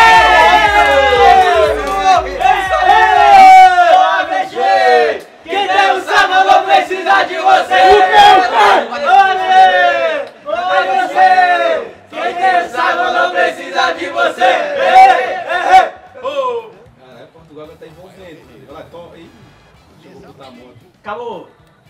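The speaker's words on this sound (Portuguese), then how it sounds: "Minha torcida ali tá vibrando muito" In a Portugal versus Belgium FIFA video game match, a stadium crowd roars and chants loudly and steadily for about fifteen seconds, then thins into scattered shouts and fades.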